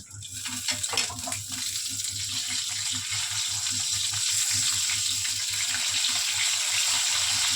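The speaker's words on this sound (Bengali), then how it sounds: "হালকা হালকা করে ভেজে নিচ্ছি।" Fish frying in a pan, a hissing sizzle that builds and then holds steady and loud, with a low rhythmic rumble underneath and no one speaking.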